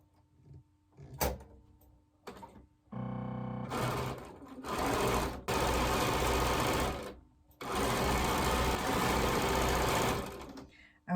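A sewing machine stitches precut quilt strips together. A few short clicks and thumps come first, then several long, loud runs of rapid stitching sound close by, with brief gaps between them.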